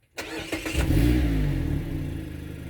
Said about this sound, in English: And I want to draw your attention to the exhaust note.